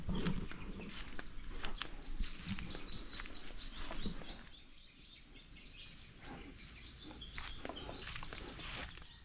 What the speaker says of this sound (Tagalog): mga huni lang ho ng ibon,